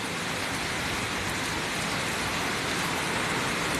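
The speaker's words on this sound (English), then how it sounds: "I love the sound of rain." Steady, dense rain pours down close by with an even broadband hiss, constant in level throughout and free of voices or other distinct sounds.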